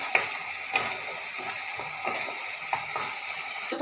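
Ginger-garlic paste sautéed with a little water in a pan, a soft continuous sizzle with scattered light clinks and scrapes from stirring.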